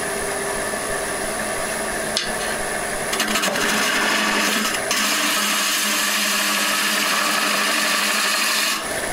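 A wood lathe spins a lamp base as a handheld cutting tool shears the end grain, giving a loud, continuous whirring rasp with shifts in tone as the cut changes, close and without speech.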